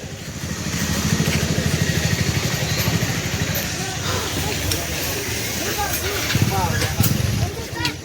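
A motorcycle engine runs steadily for the whole stretch, a low rumble carried under continuous talking from the riders as a family heads home from a temple visit.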